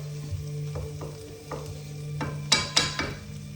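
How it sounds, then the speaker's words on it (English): Tempeh fries in a pan with a steady low sizzle, broken by several sharp clacks and scrapes of a utensil against the pan, louder toward the end. "we've got a little bit of tempeh. We're going to fry it up."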